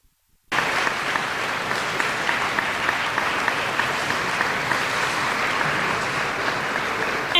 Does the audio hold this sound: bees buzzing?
no